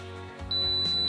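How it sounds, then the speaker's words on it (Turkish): A high, piercing smoke alarm tone, set off by smoke, starts abruptly partway through and holds steady over a low background hum. "Alarm şu an çalmaya başladı."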